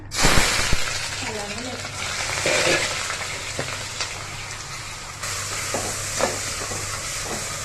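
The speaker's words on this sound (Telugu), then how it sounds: "ఆనియన్స్ వేసుకుంటున్నా" Sliced onions, about five of them, fry in a pan for a Telugu boti (goat tripe) curry, giving a steady broadband sizzle with a few stirring scrapes and no voice over it.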